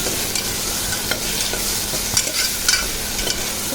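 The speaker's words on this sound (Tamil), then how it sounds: "இப்போ இதை நல்லா கலந்து விட்டுருங்க." Chopped brinjal, potato and carrot stirred in a hot pan for a baby's moong dal kichadi, a loud close sizzle with irregular scraping strokes throughout.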